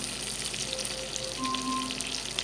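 Steak frying in a pan with butter hisses and spatters with a steady close sizzle, fine crackles running throughout and no voices.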